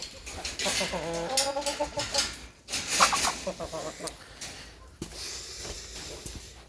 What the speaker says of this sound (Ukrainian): Боже, півень, ти що робиш? Так, кури.